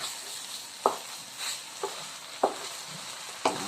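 Spicy stir-fried deer meat sizzling in a pan after water is added, a steady hiss with four sharp scraping clanks of the spatula stirring at irregular intervals.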